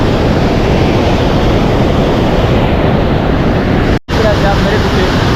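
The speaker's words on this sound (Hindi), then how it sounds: "आप मेरे पीछे पानी का बहाव देख सकते हो, काफ़ी तेज़ है और पानी की काफ़ी तेज़ आवाज़ आ रही होगी।" Fast-flowing mountain stream water on the Kedarnath trek rushes loudly and steadily nearby, a dense continuous roar broken only by a brief dropout near the end.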